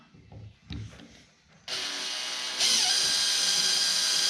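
An electric drill with a bit bores out a stuck bolt on an old Bush Hog mower, starting with a few knocks and handling noises, then a loud sustained whine that grows harsher and louder partway through.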